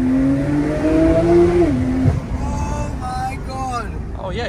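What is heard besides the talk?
decat Porsche Turbo S accelerating hard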